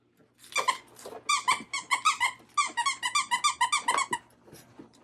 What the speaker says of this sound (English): It says the Stuffin' Muffin is a squeaker, crazy crinkle.